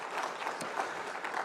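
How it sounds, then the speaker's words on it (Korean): Congregation in a Korean church sanctuary applauding together during Sunday worship, a steady dense wash of clapping filling the room for a moment with no speech over it. "하나님께 영광의 박수 올려드리겠습니다"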